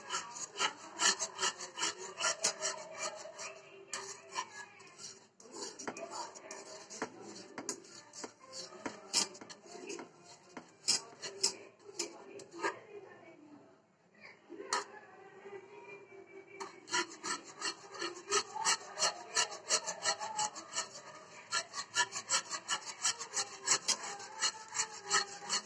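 A spoon stirs coffee pudding mixture in a pan, making steady, continuous rubbing and scraping strokes against the metal, close and fairly loud, with brief pauses and no talking.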